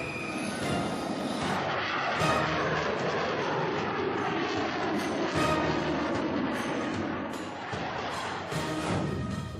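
A Dassault Rafale fighter jet roars steadily with a broad, loud engine rush that swells and eases over several seconds, heard alone without talk.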